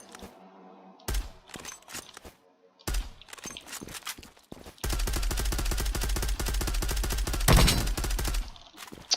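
Automatic gunfire in the online shooter Zula: scattered short bursts and single shots, then a long sustained loud stream of rapid fire that peaks near the end, with footsteps and a little talk in the gaps.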